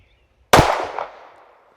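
A single sharp .45 pistol shot at a shooting range, loud and close, with a short ringing decay after the crack.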